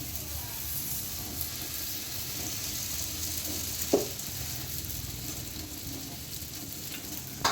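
Puran poli flatbread sizzles softly and steadily on a hot griddle, a faint continuous hiss with a brief clink near the middle.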